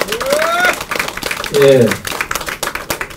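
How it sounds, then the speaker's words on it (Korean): An audience claps at the Bareunmirae Party's 2019 New Year ceremony, and the scattered applause mixes with voices and a brief spoken reply. "큰 박수로 환영해 주십시오."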